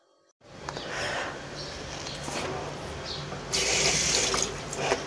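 Water runs from a household tap in a steady, moderately close rush that swells louder toward the end, with faint voices in the background.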